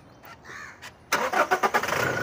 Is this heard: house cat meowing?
no